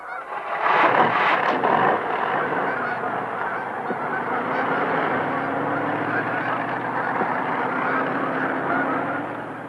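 A large flock of about a hundred geese caught under a net at Horicon honk loudly and continuously, a dense overlapping clamor that holds steady throughout without talk.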